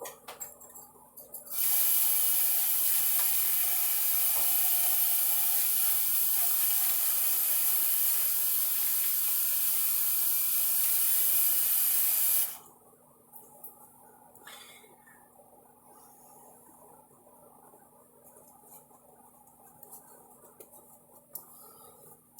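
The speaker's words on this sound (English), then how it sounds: "let me wash my hands" A faucet runs hard for hand washing, a loud, steady hiss of water near the sink that lasts about ten seconds and then cuts off, leaving quiet room tone with light clatters.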